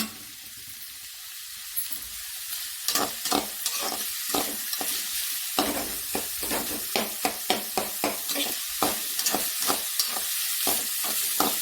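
Onions and tomatoes for squid sukka fry in a hot pan with a steady sizzle, while a spatula scrapes and stirs in quick, repeated strokes that grow busier midway.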